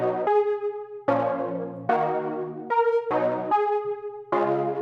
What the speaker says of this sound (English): it's a bass instrument. I just threw it up a couple octaves and it honestly sounds like a pretty cool instrument.